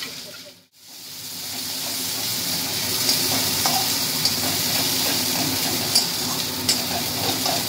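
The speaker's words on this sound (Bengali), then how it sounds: "এর মধ্যে রসুন, কালো জিরে, কাঁচা লঙ্কা, নুন আর পাতাটা পুরোটা দিয়ে আমার নেড়ে চেড়ে নেব।" Garlic, nigella seeds, green chilli, salt and ground kharkol leaf paste fry in a pan, a dense steady sizzle with occasional faint clicks of stirring, after a brief silent gap at the start; no talking.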